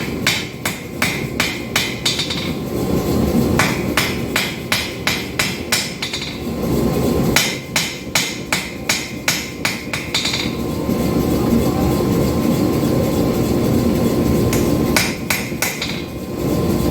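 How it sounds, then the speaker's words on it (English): Air power hammer forging an integral knife, delivering rapid bursts of loud metallic blows in quick rhythmic runs, pausing between sets, with a steady machine hum underneath and no speech. "Just a little bit easier with the air hammer, okay?"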